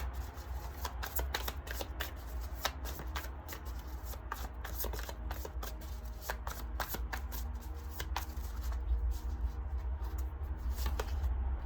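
Tarot cards shuffled continuously for a pick-a-card reading, a steady run of close, crisp riffling flicks with no talking.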